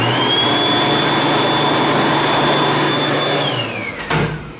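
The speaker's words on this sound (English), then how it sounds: "This one has a hand dryer." A hand dryer in the restroom of Washington County Free Library roars loudly and steadily with a high whine for about three and a half seconds, then winds down as it shuts off.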